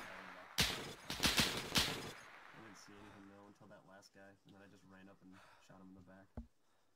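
Rapid bursts of gunfire crack out in a World War II-themed PvP video game, a quick cluster of loud shots in the first two seconds, followed by a voice talking over quieter game sounds.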